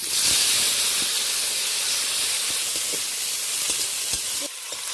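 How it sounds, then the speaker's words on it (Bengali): Onions, green chilies and tomato sizzle steadily in a hot pan, a bright continuous hiss with a few soft stirring taps, and no talking. "পেঁয়াজ কাঁচা লঙ্কা টমেটো বেশ ভাজা ভাজা করে নেব।"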